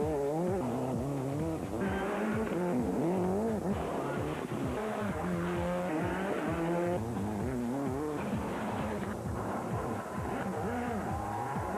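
Rally cars race on a stage of the 2004 Circuit of Kerry Rally, WRC class, engines revving hard and rising and falling through gear changes, with repeated passes and tyre squeal across the whole stretch, loud and close.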